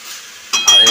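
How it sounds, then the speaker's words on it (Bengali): Onions frying in a pot for chicken curry, a sharp sizzle and stirring clatter that bursts in loudly after a quiet moment, with brief metallic scraping close by. "পেঁয়াজ ভেজে দিয়ে দিচ্ছে"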